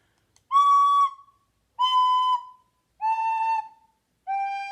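A woodwind played in four separate sustained notes, each stepping lower in pitch as finger holes are covered, clear and close with silent gaps between.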